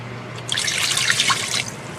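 A cup of water splashes into a pot holding a stick of unsalted butter for cooked pastry dough. A close, trickling pour lasts about a second over a low background hum.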